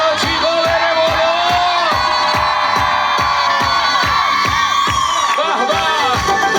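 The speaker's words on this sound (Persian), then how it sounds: "صدا جیغا بره بالا" A crowd screams and cheers at a lively live performance by an arts troupe in Tabas, the shouts riding over loud, steady rhythmic music with a driving beat throughout.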